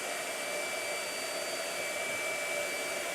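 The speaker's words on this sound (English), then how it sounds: "Blow dryer." A hair dryer blows steadily over a watercolor painting, giving a constant, even whooshing hum with a faint whine and no break in level. It is close and carries on alone without speech.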